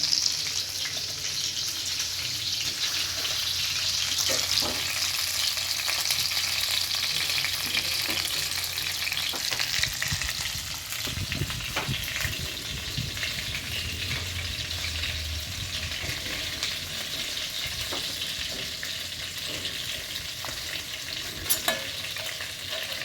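Chicken pieces fry in hot oil with a steady, bright sizzle lasting throughout, broken by occasional scrapes and clinks of stirring, with no voices.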